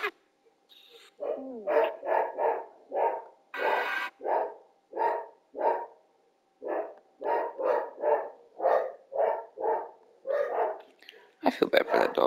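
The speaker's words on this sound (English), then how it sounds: "I feel bad for that dog." A dog barks repeatedly in a steady rhythm, loud and close, with short gaps between yappy barks and a brief high whine near the start; a voice speaks faintly at the very beginning.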